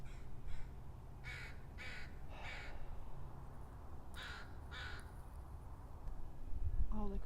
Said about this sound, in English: All the crows are coming over here now.